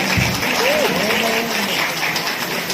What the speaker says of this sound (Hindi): एक बार ताली बजा के आशीर्वाद देना।